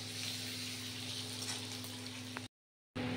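A pan of Bengali fish curry with tomato and a mustard-poppy paste sizzles at a steady, low level, backed by a constant hum. There is one small click, then a brief total dropout before the sizzle returns. No one speaks.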